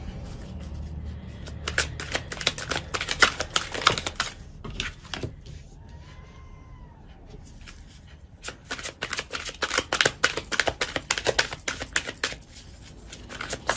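Tarot cards shuffled in long, dense riffling runs, a brief pause with a soft tone in the middle, then more rapid flicking and snapping of the deck as cards are drawn, close and fairly loud.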